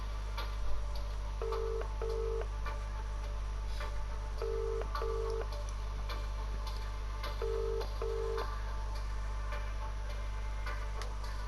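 Telephone keypad tones from the Who Wants To Be A Millionaire game, three pairs of short beeps at steady intervals over a faint ticking clock-like bed, with no talking.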